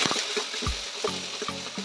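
Small onions sautéing in oil for a hotel-style tiffin sambar, a steady close sizzle with a few soft stirring scrapes and clinks, no voices.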